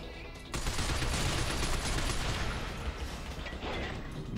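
Sustained gunfire from the Binary Domain PC demo begins abruptly after a short pause, a dense, loud, continuous rattle of rapid shots that holds for the rest of the clip without speech.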